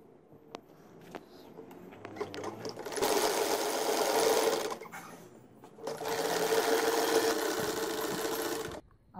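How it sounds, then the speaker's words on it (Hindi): A sewing machine stitches baby pajama trouser pieces cut from leftover fabric, running in two long steady bursts of fast, close stitching with brief pauses and handling noise between them. "अब मैं सबसे पहले इस हिस्से की सिलाई करूँगी।"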